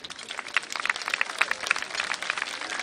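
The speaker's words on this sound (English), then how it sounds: "je vous demanderai de l'applaudir une nouvelle fois" A gala audience at Miss Tahiti applauds Robert Vann, a dense, even patter of many hands clapping at moderate volume for the whole moment.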